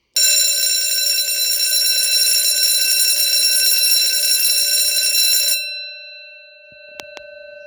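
A vintage Edwards Durabel 6-inch fire bell, no. 6000, run on 14 volts from a doorbell button, rings loudly and continuously for several seconds, then stops abruptly, leaving a faint hum and a couple of small clicks.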